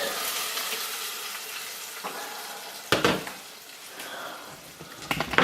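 Tomatoes tipped into a pan of frying meatballs with golden garlic for an Italian tomato sauce, giving a steady close sizzle with a couple of sharper hissing bursts as the food hits the hot oil.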